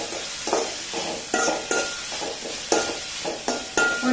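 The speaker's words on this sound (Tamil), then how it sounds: "வெண்டைக்காய் மட்டும் போட்டு தான் வதக்க போகிறோம்." Okra is sautéed in a pan, a continuous sizzle punctuated by regular scraping and tapping strokes of a spatula roughly every half second, close and fairly loud with no speech.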